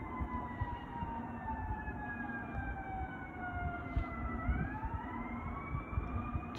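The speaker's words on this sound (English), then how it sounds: "And here comes the first fire truck." A fire truck siren wails steadily in from a distance, its rising and falling tone growing as the engine approaches, over a constant rumble of traffic and road noise.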